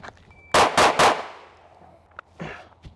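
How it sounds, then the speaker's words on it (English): Handgun fired three rounds at 10 yards with sighted fire, three loud sharp shots in quick succession with a fading echo, followed by a softer metallic clink. "I'm gonna shoot this at 10 yards using sighted fire"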